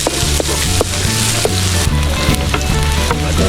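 Onion and garlic sizzle loudly together in a hot pan, a steady dense crackle broken by the scrape and knock of stirring.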